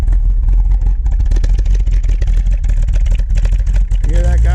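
Classic Plymouth Cuda at an outdoor car show, its engine running loud and rough and loading up with a steady throaty rumble, with crowd noise and talk around it.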